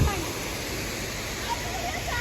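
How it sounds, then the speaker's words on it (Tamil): A small waterfall near Kanyakumari gives a steady, broadband rush of falling water, loud and continuous throughout with no pauses. "இது வந்து ஒரு சின்ன அருவி"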